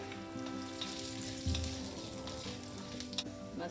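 Urad dal fries in hot gingerly oil with a close, steady crackling sizzle, broken by a few brief pops and a soft stir. No one talks.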